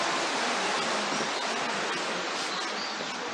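Water in a Chinese-style garden pond spanned by a small arched bridge flows with a continuous, even rushing hiss, fairly soft and unbroken, with no voices.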